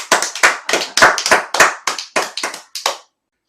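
Congregation clapping in a church, a short run of about a dozen separate sharp claps in an uneven rhythm that thin out and stop after about three seconds.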